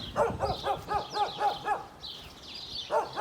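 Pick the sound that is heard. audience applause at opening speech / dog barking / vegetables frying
dog barking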